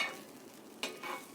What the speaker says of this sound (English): Now I just have some turkey sausage, and I had to add a little extra butter to get the browning that I wanted.